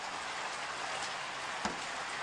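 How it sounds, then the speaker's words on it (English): Rain falls steadily during an early-morning safari drive, a constant close hiss of drops with one brief louder tap near the end and no talk. "the rain was subsiding, but now it has just increased a little bit"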